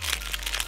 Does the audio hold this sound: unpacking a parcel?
yes